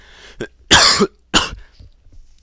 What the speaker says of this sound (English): I deeply apologize for all my coughing.